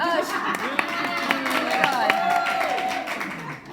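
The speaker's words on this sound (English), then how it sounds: "hence that big applause right there" Big studio audience applause during a 100th special episode, steady clapping with bright tonal sounds and voices running over it for a few seconds.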